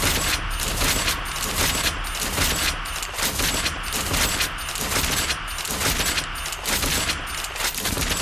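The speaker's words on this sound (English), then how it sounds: "Let's go to special and do the umbral rifle." Umbral rifle fire in Saints Row: Gat Out of Hell, a loud sustained barrage of rapid gunfire with regular pulsing bursts roughly every half second across the whole stretch.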